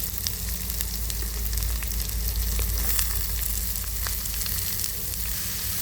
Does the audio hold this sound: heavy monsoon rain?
no